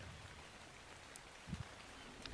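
Rainfall in the game ARK, a faint, even hiss of rain lasting a couple of seconds with a small thump near the middle, no talking.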